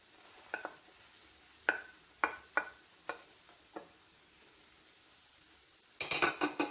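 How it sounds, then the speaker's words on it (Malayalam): Chopped onions sauté in melted butter for pav bhaji masala, with a soft sizzle under a handful of sharp spoon scrapes and clinks against the pan, then a quick burst of stirring at the end. "ഇതിലേക്ക് 2 സവോള കട്ട് ചെയ്തത് ചേർത്ത് കൊടുക്കാം"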